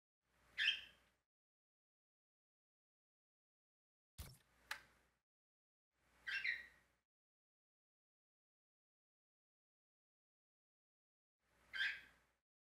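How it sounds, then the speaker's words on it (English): Pet birds chirp in short, isolated bursts with long quiet gaps between them, four brief calls in all, faint and distant in a still room. "You can hear my birds in the background."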